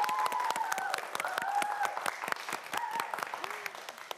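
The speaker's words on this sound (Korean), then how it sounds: "다시 한번 김채린 학생에게 큰 박수 부탁드립니다." Dense, even audience applause in a quiz show studio, a steady crowd of claps held at moderate level for several seconds as a host speaks over it, tapering slightly at the end.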